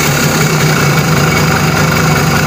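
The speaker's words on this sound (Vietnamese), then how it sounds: "Rồi giờ mình sẽ nổ máy để bạn xem ha." Simson S51 motorcycle engine idling steadily up close after starting, a continuous low buzzing drone with constant loudness throughout and no talking.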